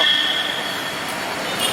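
A Kochi metro train near Tripunithura Vadakkekotta station gives a steady rail rumble with a high wheel squeal, heard from close by and without voices.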